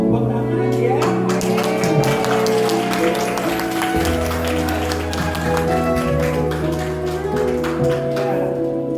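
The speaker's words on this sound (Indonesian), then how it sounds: "Siap-siap tepuk tangan dong" Congregation clapping hands during a church service at a restaurant reopening, with rhythmic claps layered over loud, sustained music with a steady bass line throughout.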